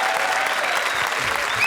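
Studio audience at a Kapil Sharma comedy show bursts into dense, steady applause, loud and continuous throughout with a faint whistle over it.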